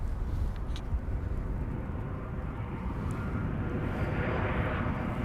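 Transavia airliner arriving at Amsterdam Schiphol from Barcelona, a faint, low rumbling jet noise in the distance that rises slightly toward the end, alone without speech.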